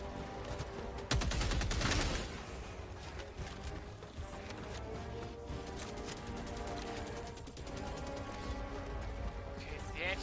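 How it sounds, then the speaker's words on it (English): Continuous rattling anti-air gunfire in a video game, with a loud burst early on and then steady rapid firing and mechanical clatter throughout, dense and busy with no clear talk. "the anti-air guns are coming from a nearby base."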